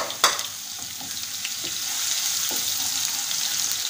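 Steady sizzle of garlic frying in hot oil, close up, with a few clinks of a utensil against the pan.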